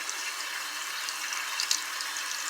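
Tap water runs steadily into a sink while someone rinses face product off, a close, even splashing wash of sound with small splatters.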